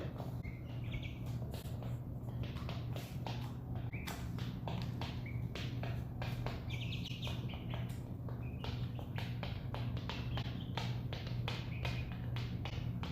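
Young chicks peck and tap busily around their enclosure, a steady stream of quick light taps with scattered faint cheeps over a constant low hum.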